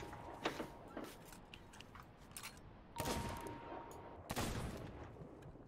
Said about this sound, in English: I am shooting at the shark